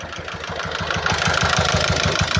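A Peugeot Partner B9 van's 1.6 HDi diesel engine idles nearby with a rapid, regular knock that repeats steadily throughout.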